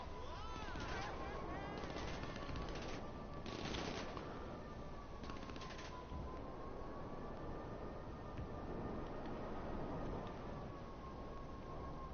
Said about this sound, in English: Because I feel like I got the lock on after shooting a missile.